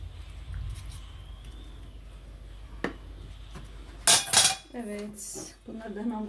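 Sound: dishes and cutlery being loaded into a dishwasher

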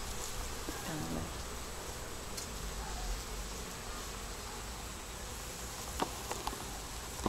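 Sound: honey bees buzzing around hive

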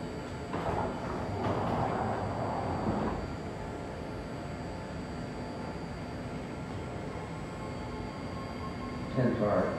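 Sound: BART Berryessa train approaching the platform

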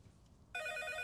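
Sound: telephone ringing

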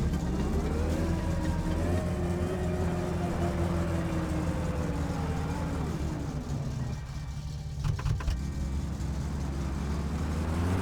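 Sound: car engine driving in video game My Summer Car

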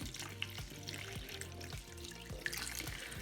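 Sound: water pouring to fill a flower pot

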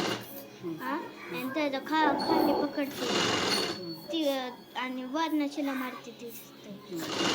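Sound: sewing machine stitching piping onto a blouse neckline

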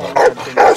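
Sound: dogs barking

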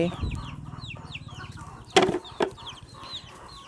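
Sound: chickens clucking

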